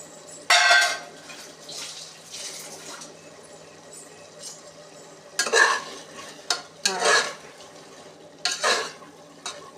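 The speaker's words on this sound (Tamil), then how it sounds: "இதையும் போட்டு நல்லா கிண்டிடுங்க." Prawn biryani masala stirred in a metal pan, a spoon scraping and knocking in several short bursts against a soft sizzle, close by with no talking.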